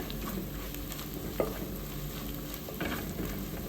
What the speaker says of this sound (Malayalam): അതേ സവാള അത്യാവശ്യം ഒന്ന് വഴറ്റി വന്നിട്ടുണ്ട്